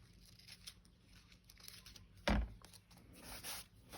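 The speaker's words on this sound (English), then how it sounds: "I'm actually just going to cut that bit off" Scissors snip off a scrap of card in a quiet craft room: one sharp, close cut stands out amid soft rustling and handling of paper.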